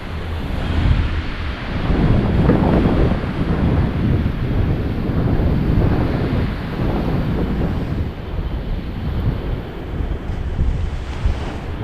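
Strong wind roars continuously and loudly, buffeting the microphone with a dense low rumble that rises and falls over about twelve seconds, with no talking.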